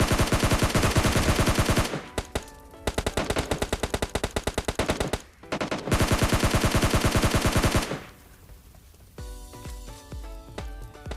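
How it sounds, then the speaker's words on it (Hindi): Rapid automatic gunfire in the PUBG Lite video game rattles in loud sustained bursts separated by brief pauses, then gives way to quieter scattered crackles and clicks. "पीछे से और फायरिंग आ रही है।"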